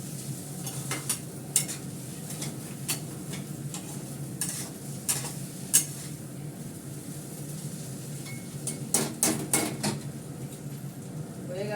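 A utensil stirs a soy sauce mixture in a frying pan, producing soft scrapes and clinks against the metal over a faint sizzle, close by and quiet with no speech.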